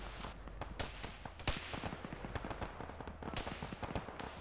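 Gunfire in an Arma military game, a dense run of sharp, distant cracks and pops at an irregular rhythm, fairly faint, with no talking.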